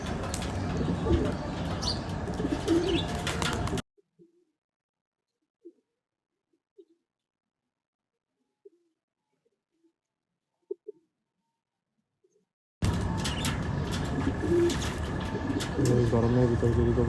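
Pigeons cooing in the heat, with soft low coos that come and go against a busy, noisy background and only scattered faint coos in a quiet stretch. A person talks at the beginning and at the end.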